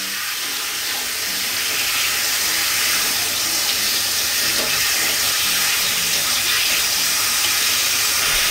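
Napa cabbage being washed under a running kitchen tap, a loud, steady rush of water with light splashing and no voices.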